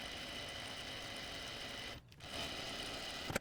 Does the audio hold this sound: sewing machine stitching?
yes